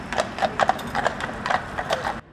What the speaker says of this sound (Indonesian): Kuda guys, kuda.